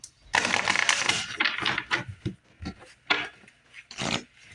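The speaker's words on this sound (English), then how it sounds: "one more shuffle" Tarot cards riffle and slap together in quick bursts of crisp rustling and tapping, a few shuffles close to the microphone.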